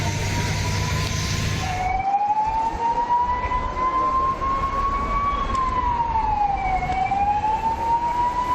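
A fire engine siren wails at a plastic warehouse fire, rising and falling in long sweeps at moderate distance over steady road and traffic noise, with no talk.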